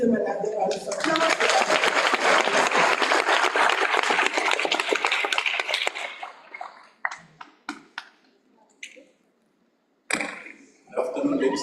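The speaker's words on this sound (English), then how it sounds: "Let's give them another round of applause." Audience clapping at a graduation ceremony for graduates, loud and dense for about five seconds, then thinning into scattered claps and quiet before a few sharp bursts near the end.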